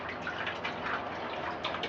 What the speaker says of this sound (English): rain this bleach water down on it